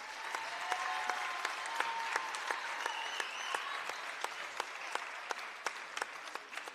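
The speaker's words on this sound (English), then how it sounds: "A round of applause for these fine young students." A crowd in a gym at a girls basketball game applauds senior band students, a soft, even patter of clapping with a few sharper individual claps standing out near the listener.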